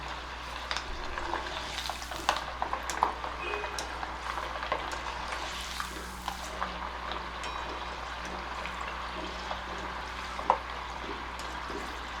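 Peanuts fry in oil, making a faint, steady crackle and scattered small pops over a low constant hum, with occasional clicks of a utensil.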